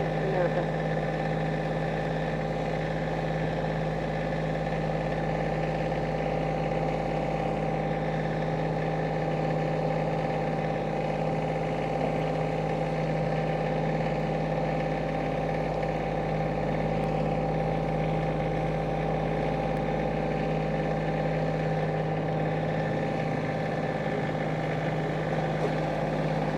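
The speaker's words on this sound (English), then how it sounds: "We're going to try the tractor." A tractor engine runs steadily on a steep hillside during log cleanup, a constant mid-pitched drone with a tonal hum that holds at even loudness throughout, with no talk over it.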